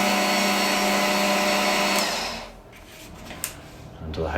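A Bosch PBD 40 drill press motor whirs steadily and close for two seconds, then spins down to a lower, quieter hum with a few faint clicks and knocks from the machine.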